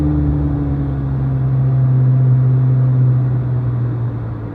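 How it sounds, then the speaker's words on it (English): A Corvette Z06 convertible engine rumbles at idle, a loud, steady low drone with a faint whirring hum, holding level before easing slightly at the end, with no talk. "I still get to hear the engine"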